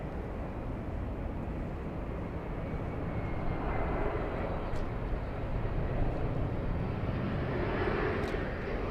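Steady broadband roar of KLM airliner jet engines at Los Angeles International Airport, moderately loud and continuous, building slightly toward the end with no talk over it.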